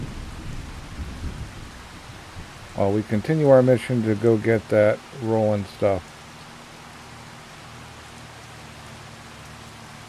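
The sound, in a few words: rain and thunder in Farming Simulator 25 video game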